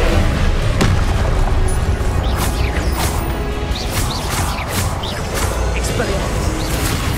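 Fire spells burst in Hogwarts Legacy as a series of loud booms and crackling impacts amid dense, chaotic combat noise, with voices talking over the action.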